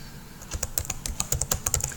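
A computer keyboard is typed in quick, irregular bursts of light clicks while a title is entered into an online form. The keystrokes are close and fairly quiet, with no talking.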